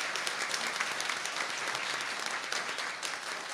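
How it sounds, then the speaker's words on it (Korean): A church congregation claps steadily through a Christmas service, dense and even, with no voices over it. "우리 하나님께 영광의 박수 올려드리겠습니다."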